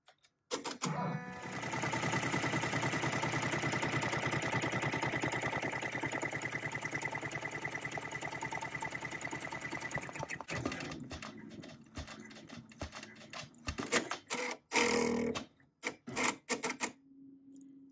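An embroidery machine sews a triple stitch on an in-the-hoop gel holder with a cork piece, a steady rapid mechanical chatter running loud for about ten seconds, then breaking into a few short bursts before stopping.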